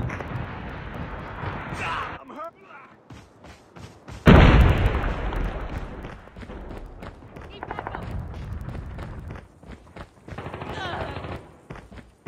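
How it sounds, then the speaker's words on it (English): Predator missile strike in Call of Duty Mobile: a loud, sudden broadband blast around the middle, trailing into a rumbling roar, amid scattered gunfire and game voice callouts. "Friendly predator missile inbound."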